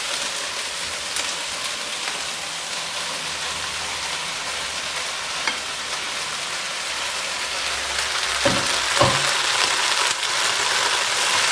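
Beef and broccoli stir fry sizzling steadily in a hot pan, a constant broadband hiss with a few louder crackles and clatters near the end, no talking.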